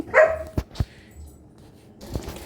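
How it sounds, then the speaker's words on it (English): A dog barks indoors: a high yelp, then a couple of sharp barks, and one more after a short quiet gap. Each sound is close and brief. "or else the dogs would continue to bark"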